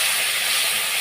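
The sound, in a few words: onion paste added to hot pan, sizzling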